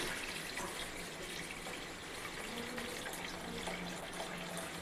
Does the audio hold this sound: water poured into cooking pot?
yes